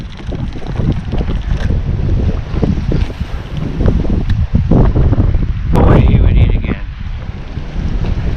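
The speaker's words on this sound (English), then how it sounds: "Wind is pretty aggressive." Strong gusty wind buffets the microphone while kayak fishing from a Hobie saltwater kayak near Matlacha, Florida, a loud, uneven rumble that swells and eases throughout with no talking.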